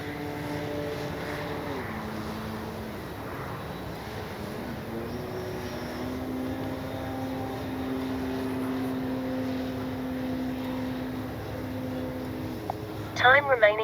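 Hangar 9 J-3 Cub RC plane with a 10cc engine flying on its maiden flight, a steady droning engine tone shifting pitch as it passes, with a brief clatter near the end.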